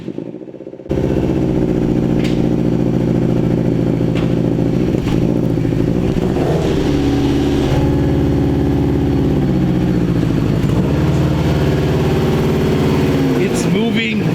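Rare Subaru WRX engine catching on its first start and running steadily with some throttle variation, loud and close, while people talk over it.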